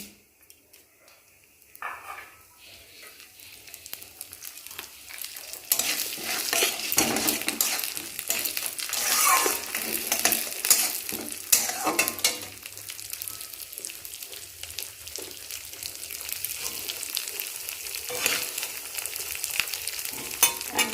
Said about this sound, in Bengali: এখন ডালটা ভাজা হয়ে গেছে